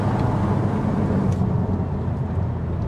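The engine of a Renault Clio V6 accelerates, giving a deep, loud, continuous roar heard from inside the car. It holds steady throughout the short stretch.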